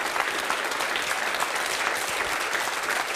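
A studio audience at a talent show applauds for Sébastien, a dense, steady wash of clapping that holds evenly throughout.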